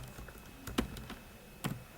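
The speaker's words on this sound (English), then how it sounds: "my typing is going to be very slower than normal" Typing on a computer keyboard by someone with cold hands, a few quiet, sparse keystrokes with two louder clacks, slow and irregular in a quiet room.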